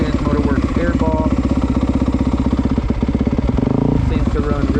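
Dirt bike with an aftermarket Rocket exhaust and Wind Motorworks airbox idling and warming up at a sand track, a loud close rhythmic engine putter with a brief blip of revs near the end.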